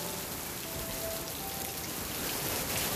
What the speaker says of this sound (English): Oh, the rain is coming down.